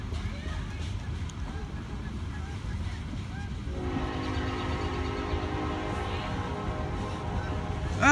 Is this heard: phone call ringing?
no